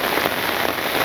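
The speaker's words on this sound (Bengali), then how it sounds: "একদম নীরবের মধ্যে বৃষ্টি হতেছে" Steady rain falls on a village on a calm, windless day, a dense, even hiss of drops hitting surfaces close by with no other sounds.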